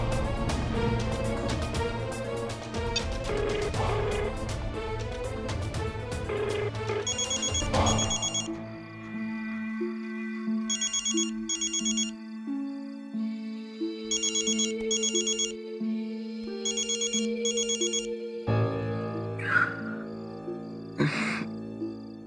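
A telephone ringtone plays as a looping melodic electronic tune, loud and close, repeating several times, with a dramatic music sting before it and background music underneath.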